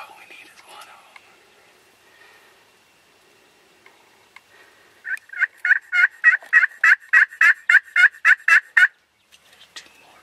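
Wild turkeys gobble during turkey season in a fast, loud rattling burst of about a dozen pulses that ends abruptly, after a stretch of quiet whispering voices.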